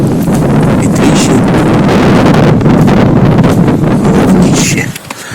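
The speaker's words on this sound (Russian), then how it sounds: "Ветрище." Strong, gusty wind buffeting the microphone outdoors during a spring goose hunt in the Komi Republic, a loud continuous roar with rustling that eases slightly at the very end.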